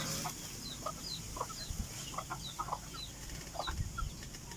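A gamefowl rooster gives soft, scattered clucks close by, with faint rustling and flapping in a quiet backyard setting.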